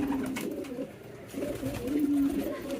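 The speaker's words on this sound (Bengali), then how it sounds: "কোনো একটা কবুতরের সাথে সে জোড়া নিতে চাইতেছে" Pigeon cooing, a low throaty rolling coo repeated in a few phrases at close range, with soft background noise between calls and no speech.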